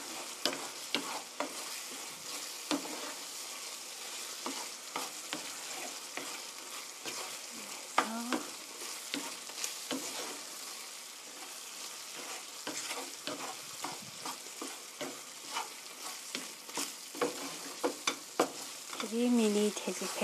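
Chicken with curry paste being stir-fried in a pan, with a continuous close sizzle broken by frequent scraping and clinking of the utensil against the pan, and brief voice-like tones near the end.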